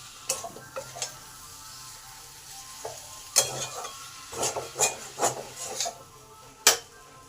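Ground spices and chilli powder cook with a tomato in a frying pan, a soft sizzle beneath irregular spatula scrapes and clacks that come in bursts, with no talking.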